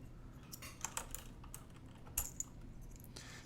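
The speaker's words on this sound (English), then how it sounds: "Let me pull up a couple of keys so you can see that." Keycaps are pulled off a Kinesis Advantage2 mechanical keyboard with a plastic plate, giving a few sharp, close plastic clicks and snaps scattered over a quiet background.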